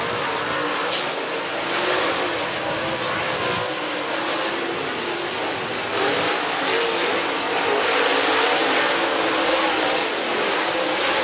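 Race cars running hot laps on a dirt short track at Talladega, with loud, continuous engine roar and revving from several cars passing and accelerating, heard from trackside without speech.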